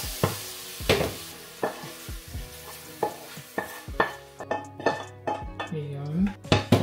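Cooked mushrooms scooped from a frying pan with a utensil, giving a string of clinks and scrapes against the pan over a soft sizzle, with a voice talking at moments.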